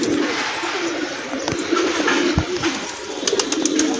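Pigeons, including a wild one drawn to scattered grain, give low soft coos outdoors amid a broad hiss of background noise and a few sharp knocks, moderately close.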